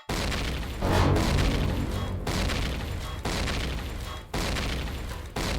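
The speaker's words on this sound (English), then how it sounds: "Lots of explosions." Repeated heavy explosions in the space survival game Empyrion Galactic Survival, with four or five loud booming blasts at roughly one-second intervals, each ringing out before the next hits.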